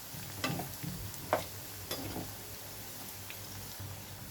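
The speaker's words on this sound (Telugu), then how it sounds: "ఇలా కొంచెం వేగిన తర్వాత కదిలించుకుంటే సూపర్గా రెడీ అవుతాయి" Onion pakodi, a rice-flour batter fritter, frying in hot oil with a steady low sizzle and a few soft scrapes as they are stirred in the pan, fairly quiet with no talk.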